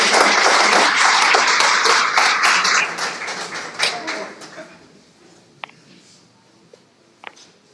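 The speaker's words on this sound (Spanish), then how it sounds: "Lo recibimos con un fuerte aplauso." Audience applause welcoming a speaker at a talk on Franciscan and Dominican evangelization, a dense burst of clapping that fades over several seconds into a few scattered final claps.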